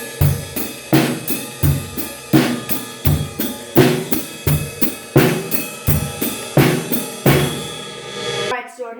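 A drum kit plays a steady beginner beat: bass drum and snare alternate under a running ride cymbal, with sharp, regular hits close up for about eight seconds before a short different sound ends it.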